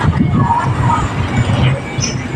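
A loud machine runs during repair with a loose part and missing screws, giving a continuous heavy rumble with rattling, close and dominant, with speech mixed in.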